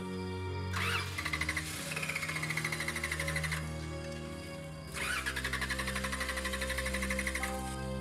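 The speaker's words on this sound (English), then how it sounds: "Try and start it for him." A car engine cranks in two long bursts of rapid, rhythmic churning separated by a short pause, with a steady low hum underneath.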